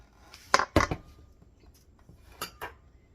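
A spoon scrapes and clinks against a bowl while cake batter for a blueberry streusel cake is mixed by hand, in a few quick knocks and strokes up close with quiet gaps between.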